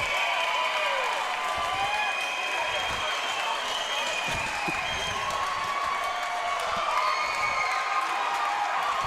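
A home crowd roars after a goal at a Whitby Warriors versus Orangeville Northmen semi-final lacrosse game, loud sustained cheering and clapping filling the arena, with whistles and shouts rising over a steady wall of noise.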